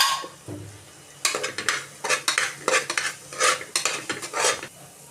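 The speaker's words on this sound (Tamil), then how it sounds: "மல்லித்தூள் 2 சிட்டிகை போட்டு நல்லா வதக்கணும்." Spices and ground coriander being sautéed and stirred in a pan for goat thonjal curry, a utensil scraping and clinking against the pan in quick irregular strokes over a faint sizzle, close and fairly loud.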